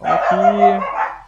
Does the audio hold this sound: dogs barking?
yes